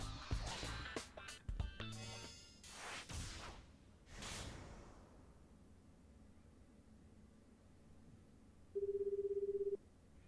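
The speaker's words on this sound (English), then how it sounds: "Osawa picked up his cell phone and dialed Tanaka's number. The phone rang several times." Cell phone being dialed in 428: Shibuya Scramble: a quick flurry of sharp key beeps and clicks, a few whooshing swells, then a quiet pause before a single steady electronic ring tone sounds for about a second.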